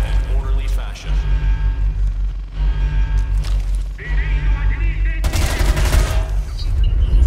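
Gunfire rattles through a firefight in the video game Homefront: The Revolution, with repeated bursts of automatic shots and booms, loud and close, and a dense crackling volley near the end.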